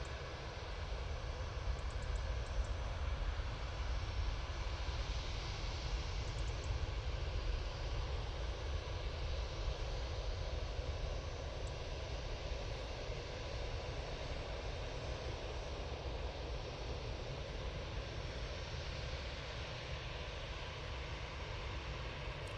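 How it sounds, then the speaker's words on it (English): A Juneyao Boeing 787-9 Dreamliner arriving at Manchester Airport after a flight from Shanghai, its steady, fairly faint jet roar holding evenly throughout with no voices. "Arriving now, we have the Junyao 787-9 Dreamliner all the way from Shanghai."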